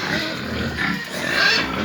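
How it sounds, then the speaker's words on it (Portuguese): Pigs on a farm pen kept for meat, grunting and squealing close by in a dense, continuous mix with some rustling, loudest near the end, with no clear talk over them. "Porco bonito aí, ó. Um desse aí vai ser."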